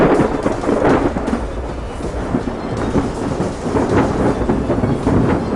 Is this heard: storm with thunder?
yes